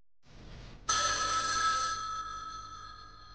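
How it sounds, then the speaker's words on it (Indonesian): A single telephone ring with bright metallic bell tones starts abruptly, then slowly decays over a low hum. "Tiba-tiba telepon di kamar berdering"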